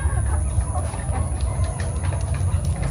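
Chickens near their nesting boxes cluck and murmur over a loud, steady low hum from the coop, with scattered short calls rising throughout and no talking.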